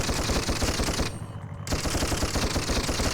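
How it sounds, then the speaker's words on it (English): Rapid machine gun fire from a toy vehicle in the Dreamcast game Toy Commander, a dense, loud stream of shots that pauses briefly in the middle before resuming, with no voices. "Now this machine gun ammo, I believe, is unlimited, but it does seem to have a cooldown."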